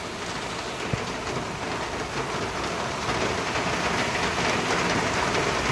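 Steady heavy rain pours down in a continuous dense hiss, unbroken throughout.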